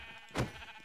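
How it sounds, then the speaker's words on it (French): A single short sheep bleat from the Minecraft video game as the sheep is killed, brief and fairly faint against a quiet background. "On fait maintenant un génocide de moutons."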